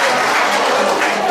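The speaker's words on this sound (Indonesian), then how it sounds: "Tepuk tangan dong, tepuk tangan dong." Audience at a 30-year alumni reunion event applauds, a dense, steady wash of clapping sustained at even loudness throughout the short stretch with no break.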